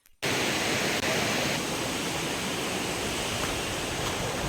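Doni waterfall in Palakkad roars as one loud, unbroken wash of falling water, close and constant throughout after a brief quiet start, with no voices.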